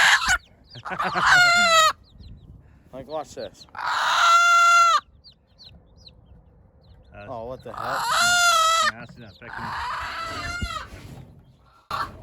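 A red-eyed mother hen clucks and squawks loudly in several bursts, with a person briefly speaking between the calls.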